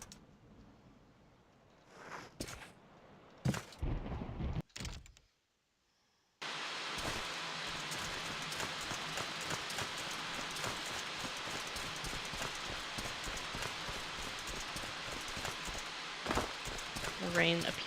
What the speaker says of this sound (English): The rain appears to be broken.